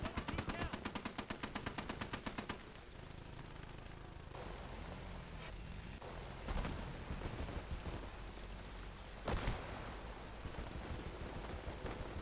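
An anti-aircraft gun fires a rapid burst of shots in the World War II game Gates of Hell: Ostfront. A few heavier single bangs stand out later against a noisy battlefield background.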